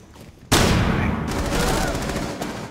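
Gunfire in Rainbow Six Siege during a team deathmatch on the Chalet map: a sudden, loud burst of rapid automatic shots breaks in after a quiet start and keeps going as a dense, sustained rattle with echo.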